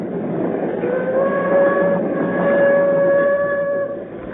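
A train runs along in an old radio drama, a loud steady rolling rumble with sustained whistle-like tones above it, continuous and close, then easing slightly at the end.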